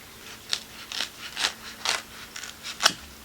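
A foam pool noodle, two inches in diameter, being cut into pieces with scissors: six or seven crisp snipping crunches at a steady rhythm, close and fairly quiet.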